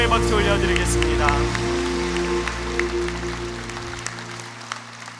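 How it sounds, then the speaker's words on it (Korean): A church congregation gives a round of applause to God during a Korean worship service, a dense, rain-like patter of clapping over sustained organ or keyboard chords that fades gradually. "하나님께 영광의 박수 올려드리겠습니다"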